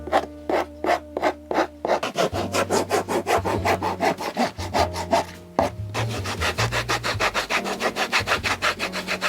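Rhythmic rasping strokes as a boot's toe stiffener is shaved down over a wooden last, steady close scraping that pauses briefly near the two-second mark and again just before six seconds, then resumes at a quicker pace.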